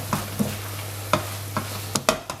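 Cottage pie filling sizzling in a pan as Lea & Perrins Worcester sauce is stirred in, with a steady frying hiss broken by several close, distinct spoon scrapes and knocks.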